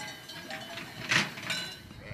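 Sheep bleat at a shepherd's hut pasture, a few wavering calls blending together over a soft outdoor background, one louder nearby bleat standing out.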